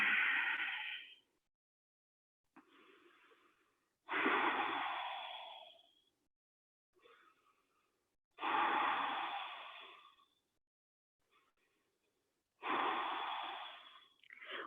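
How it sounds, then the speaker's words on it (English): Slow, deep breaths held in the yoga bunny pose: four long, loud exhales sound close up at a steady pace, each followed by a quieter, shorter inhale, with no talking. "Breathe."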